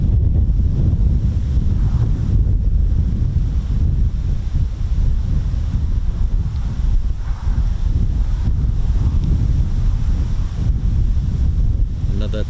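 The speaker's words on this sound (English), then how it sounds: "It's very, very windy." Strong wind buffets the microphone steadily at an RAF Marham air show, a loud continuous low roar with gusty rumble throughout and no break.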